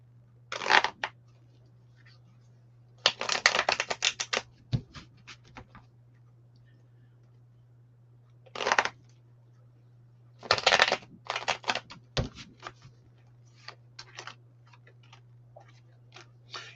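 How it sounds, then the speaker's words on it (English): A deck of tarot cards being shuffled in several separate bursts of crisp riffling and slapping, close by, with quiet pauses and small taps between, set against a steady low hum. "All right, Martha, let me shuffle these up."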